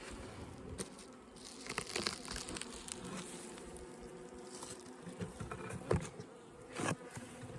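Young honey bees buzz steadily around an open hive, a dense, continuous insect drone with occasional louder passes as individual bees fly close to the microphone.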